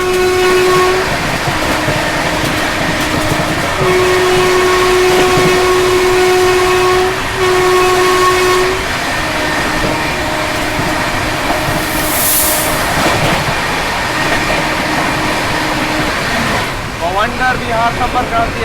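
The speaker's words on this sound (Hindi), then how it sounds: "Overtaking north east express." Moving train on an Indian railway overtaking the North East Express, a continuous loud rumble of wheels and carriages with long horn blasts sounding repeatedly through it.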